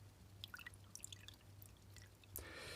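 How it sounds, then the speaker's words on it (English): Water poured into a glass, a quiet trickle and a few scattered drips, then a brief louder gush of pouring near the end, close and soft over a low steady hum. "So I'm going to put some water in here."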